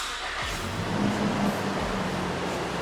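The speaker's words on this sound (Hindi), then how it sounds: "अभी मैं इसको शॉर्ट करता हूँ तो इसका इंजन देखिएगा" A petrol Toyota Fortuner V 4x4 engine turns over and settles into a smooth, quiet idle, with a steady low hum and a slight rise early on, close by and with no voices.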